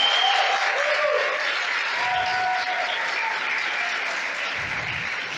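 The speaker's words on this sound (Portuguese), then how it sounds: "Pode dar uma salva de palmas para Jesus, bem linda aqui." A church audience at a conference gives a long round of applause, dense and sustained from start to finish, with faint voices and cheers mixed into the crowd.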